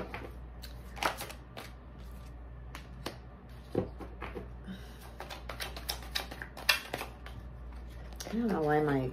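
Tarot cards are laid out on a table one after another, with soft slaps and sliding shuffles in an irregular rhythm, close by and mingled with a person talking.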